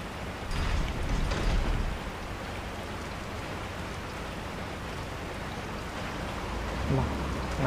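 Nighttime rain in Resident Evil 4, a constant broad hiss of rainfall with a low rumbling swell early on and a brief thud near the end, faint voices underneath.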